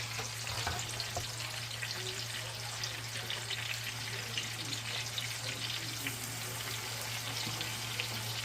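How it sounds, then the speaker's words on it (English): Steady, even sizzling of green garlic tops frying in hot bacon grease, continuous and close, with a low hum underneath and occasional faint clinks. "add in the green garlic tops"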